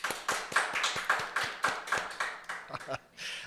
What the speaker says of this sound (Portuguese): As palmas foram para a nossa convidada de hoje, Maria Keterine.